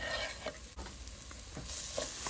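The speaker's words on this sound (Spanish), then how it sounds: "Le movemos aquí un poquito a la cebolla para que se sofría un poco." Onion frying with chorizo, garlic and chile in a pan sizzles steadily while a spoon stirs it in a few brief scraping strokes, close and alone.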